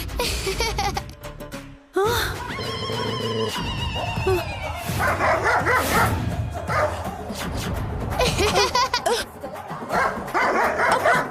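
A dog yips and whimpers in short excited bursts, fairly close, with other noisy activity around it.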